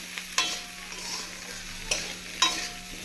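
Rohu fish curry with taro and potato and green chilies being sautéed and stirred in a pan: a low steady sizzle with a few sharp scraping stirs of the spatula, close and alone.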